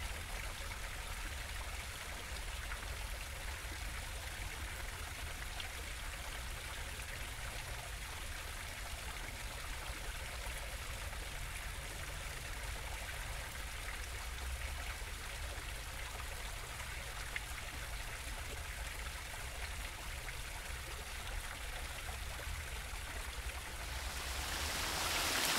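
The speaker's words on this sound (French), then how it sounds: "Les chutes de Tis Issat, l'eau qui fume, des chutes de 45 mètres de haut." Tis Issat waterfall on the Blue Nile in Ethiopia, 45 metres high, a constant broad rushing roar of falling water, steady and unbroken throughout, with no talk.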